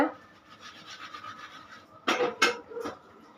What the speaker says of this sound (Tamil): சப்பாத்தி மாவு பிசைஞ்சு எடுத்துக்கலாம் சப்பாத்தி மாவு பிசைஞ்சாச்சு